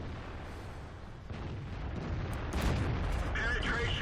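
Tank gun firing in World of Tanks, with the SARL 42 and SU-5 in play: deep booming battle noise swelling to a heavy shot, with someone talking over the game sounds.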